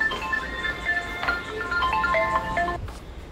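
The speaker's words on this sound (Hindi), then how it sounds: "जैसे कि मेरे फ़ोन पे किसी का फ़ोन आ रहा है," A mobile phone rings with an incoming call in a home kitchen, a bright electronic ringtone melody of repeating tones playing loud and near for a few seconds before cutting off.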